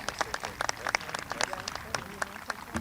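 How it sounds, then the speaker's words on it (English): A school crowd gives a round of applause for sophomore multi-sport athletes, with scattered, irregular claps from many hands at moderate loudness and some crowd noise mixed in. "Let's have a nice round of applause for our sophomore multi-sport athletes."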